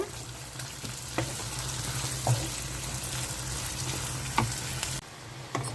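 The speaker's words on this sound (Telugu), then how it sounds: "వేగుతున్నాయి కదండి ఉల్లిపాయలు ఇంకా వేగాలి" Onions fry in oil for egg dum biryani, making a steady, dense sizzle with occasional louder spoon knocks and clatters, close by, the frying cutting off briefly near the end before resuming.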